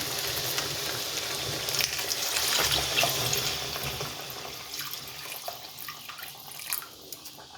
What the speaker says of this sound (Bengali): এখন আমি এর মধ্যে দিয়ে দেব গরম পানি।